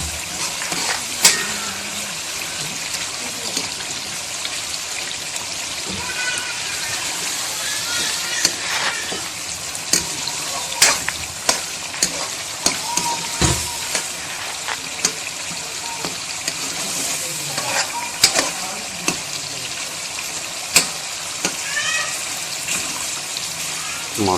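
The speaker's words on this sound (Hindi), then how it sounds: "इन टमाटरों को हमने नरम होने तक पकाना है।" Tomatoes softening in a pan for Pakistani chicken achari bubble and sizzle up close, broken by frequent clanks and scrapes of a spoon against the pan, while a person talks throughout.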